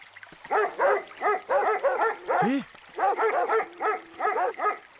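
A dog barks repeatedly in quick clusters of sharp, close barks, with a short yelp in the middle, loud and clear with brief gaps between bursts.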